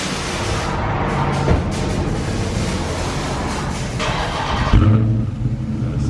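A Dodge Charger Scat Pack engine runs loud and close, revving with a deep rumbling exhaust, then surges harder near the end.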